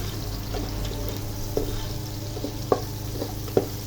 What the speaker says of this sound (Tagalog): Matapos nating i-melt ang ating butter, ay pwede na nating ilagay ang ating garlic.